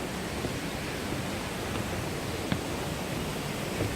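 A forest waterfall at Sinbulsan recreation forest roars in a steady, broadband rush of falling water, continuous and fairly close, with no voices.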